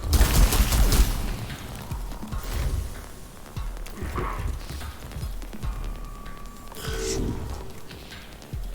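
Weapons firing in the video game Warhammer 40,000: Mechanicus, heavy impacts and bursts of fire clustered loudly at the start and then giving way to scattered blasts, whooshes and mechanical clanks.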